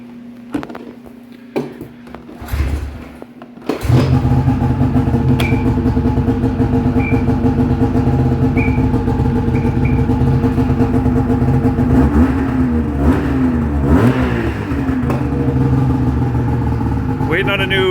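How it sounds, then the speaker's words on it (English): A 2004 Ski-Doo MXZ X 600 SDI two-stroke snowmobile engine, freshly rebuilt with new chain case oil, takes a few pull-start tugs, then fires and runs loudly and steadily at a rough, buzzing idle with small revs. "Let's give her a couple pulls here and get her to fire up."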